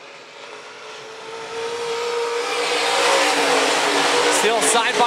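Stock cars on the straightaway at Phillips County Raceway build from a distant drone to a loud rushing roar as they approach. A race announcer talks over the engines.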